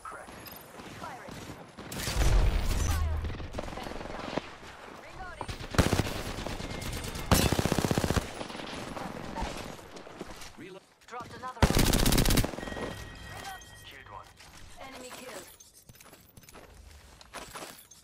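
Automatic weapon fire in the Apex Legends battle royale game, several loud bursts of rapid shots spaced across the stretch, with footsteps and other game effects between them.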